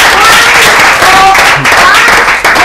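A group of people applauds at the close of a Spanish studio show, dense clapping filling the whole stretch at close range, with voices talking and calling out over it.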